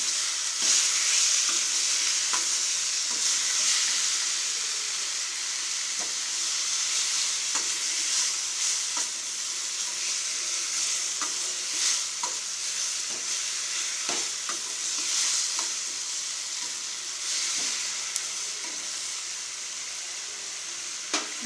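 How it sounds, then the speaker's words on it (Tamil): Ash gourd sautés with onion and tomato in a hot pan, a steady hissing sizzle running throughout with frequent short clicks and scrapes of a spoon stirring, close up and without speech. "இப்போ நம்ம அரிஞ்சு வச்சுருக்க இந்த நீர் பூசணிக்காயை அதில் போட்டுக்கலாம். நல்லா ஒரு 2 வணக்கிக்கலாம்."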